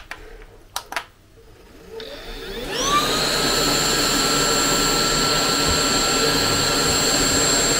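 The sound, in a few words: vacuum cleaner running in eco mode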